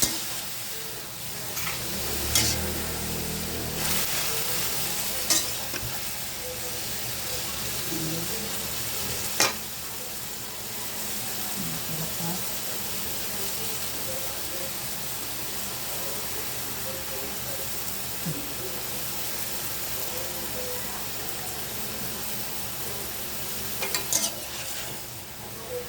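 Bean sprouts and tofu sautéing in a pan, a steady loud sizzle throughout with scattered utensil clinks and scrapes of stirring, close, no talk.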